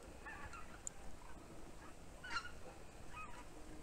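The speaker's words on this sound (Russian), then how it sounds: "Гуси летят. Четвертый косяк уже." Faint, distant honks from a flock of geese flying overhead drift in over an outdoor rumble in a garden in late May, a few scattered calls.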